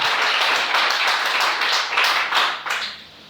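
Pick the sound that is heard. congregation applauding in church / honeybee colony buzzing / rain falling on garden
congregation applauding in church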